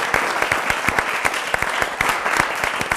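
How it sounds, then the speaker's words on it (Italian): An audience claps for three teachers at a youth event in Friuli, with dense, steady applause throughout. "Fate un applauso perché questi tre insegnanti"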